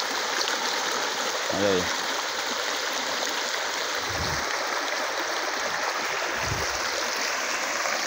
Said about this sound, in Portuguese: Filmar o riacho lá, como é que tá. Eu vi que tá com muita água